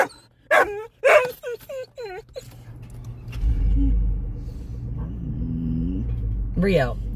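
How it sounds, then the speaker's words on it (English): Several dogs bark in a rapid burst of sharp, close barks, then fall to a low vehicle rumble with a faint whimper and a brief yip; a person's voice can be heard. "you got every dog in here barking"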